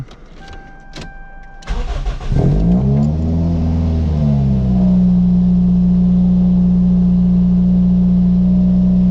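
A Toyota 4AGE engine with open throttles and fresh NGK spark plugs cranks and catches, revs up and back down over a couple of seconds, then settles into a loud, steady idle.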